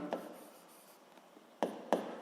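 Pen on paper while noting down given values for a school physics problem: soft, close scratching strokes with a few sharper taps of the pen, quiet and without talk.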